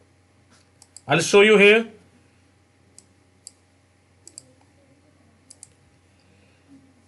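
Sharp mouse clicks and light keyboard taps on a computer, a few isolated clicks spaced over several seconds after a brief spoken phrase, quiet and close in an otherwise still room.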